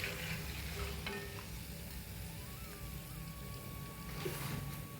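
Cassava chips fry in hot oil after the foam has settled, a quiet, steady sizzle with light bubbling and a few faint metallic stirring clicks.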